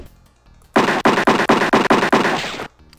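Eight rapid gunshots ring out in the Freddy Pharkas video game, loud evenly spaced bangs in a quick burst, then quiet.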